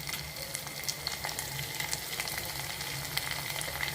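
Curry leaves crackle and sizzle steadily as they hit hot oil in a pan, a dense, fairly soft frying hiss with scattered pops and no talking.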